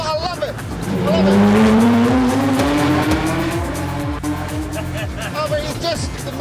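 An off-road modified Mazda MX-5 is driven hard, its engine roaring loud and close while the tires squeal in a long rising skid, with a voice talking over it.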